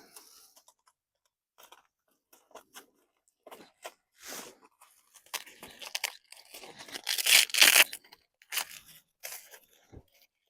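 A Velcro strap is wrapped around hydraulic hoses on a tractor near a metal edge. Scattered close rips and crinkles come at first, then a denser run of loud tearing bursts before tapering off.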